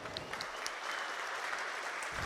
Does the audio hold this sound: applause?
yes